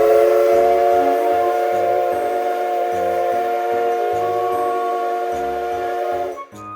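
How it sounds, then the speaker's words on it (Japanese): The SL Paleo Express steam locomotive sounds a long, loud, sustained whistle as it departs, with a steady rhythmic chuffing pulsing beneath it until the whistle cuts off at the end. "大きな汽笛を鳴らして SL が出発します。"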